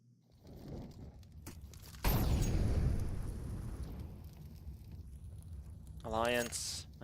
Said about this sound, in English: Flashbang comes in.